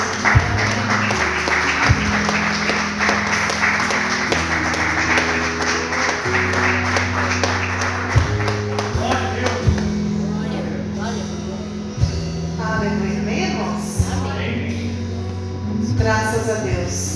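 Church congregation claps through a long stretch while steady keyboard chords play underneath, the clapping blended into the music with a voice speaking over it at times.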